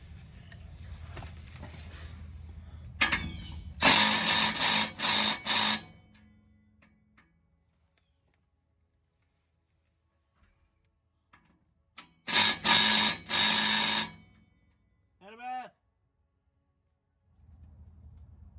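A 12mm socket on a ratchet loosens the exhaust V-band clamp joining a truck's tailpipe to its muffler, two close bursts of rapid metallic ratcheting clicks separated by quiet, then a brief squeak.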